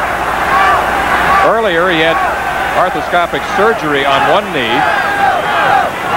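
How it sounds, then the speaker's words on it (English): A football stadium crowd at a 1984 USFL game in Denver yells for the Denver Gold to go for it on fourth down, a loud continuous roar in the background under a commentator's steady talk. "you can hear the crowd in the background yelling for the Denver Gold to go for it on 4th and 4"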